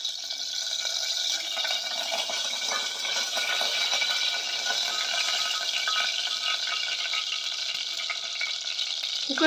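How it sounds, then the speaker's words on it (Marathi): Peanut oil heating in a pan hisses and sizzles steadily, a continuous, close frying sound without break. "सर्वप्रथम मी तेल ऍड करते. हे शेंगदाणा तेल आहे."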